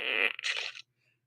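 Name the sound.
fart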